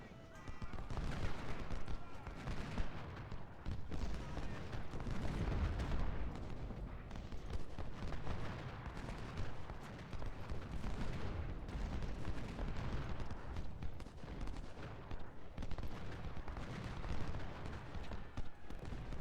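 Musket and artillery volleys in Ultimate General: Civil War at the Battle of Cross Keys, with continuous rolling gunfire and booms over a long battle din, and a voice talking over it.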